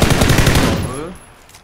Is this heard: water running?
no